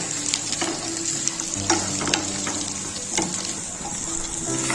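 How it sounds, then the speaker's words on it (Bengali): Cubed pumpkin and potato frying with onions in hot oil, a continuous close sizzle with occasional crackles and the scrape of stirring, no voices. "কুমড়ো এবং আলুটা আমি খুব ভালোভাবে কিছুক্ষণ পেঁয়াজের সঙ্গে ভেজে নেব"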